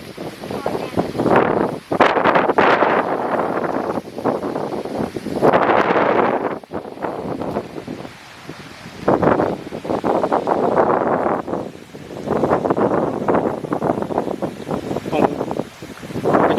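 Strong wind buffets the microphone while a large Thai chula kite is flown outdoors, coming in loud roaring gusts with brief lulls between them, as people shout over it.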